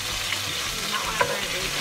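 Garlic fries in very hot oil in a pan for a meat sauce, producing a steady, dense sizzle close by, with a faint stir-like scrape near the end and no talk.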